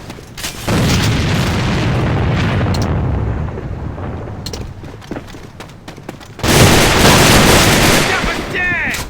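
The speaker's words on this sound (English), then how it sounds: "Grenade straight ahead!" Grenade explosions and rapid gunfire fill a battle in the video game A.V.A Online, loud sustained booming and rattling that drops briefly, then returns even louder, with voices shouting over it.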